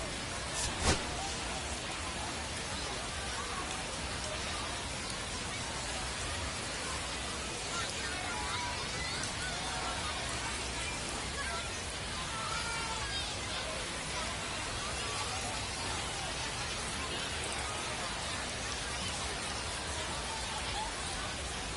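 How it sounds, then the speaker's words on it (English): Rain pours down during a baseball game in MLB The Show 25, a dense continuous hiss under intermittent commentary-style talk, with one brief sharp crack near the start. "We're coming right up against it with the way this rain is coming down"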